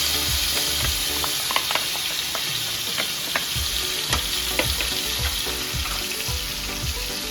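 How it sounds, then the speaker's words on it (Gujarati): Paneer pieces frying in a pan of oil, with a steady close sizzle and scattered pops and stirring scrapes throughout. "હવે આ પનીરને આ તવામાં 1 પાવડું તેલ નાખીને એને ફ્રાય કરી લઈશું."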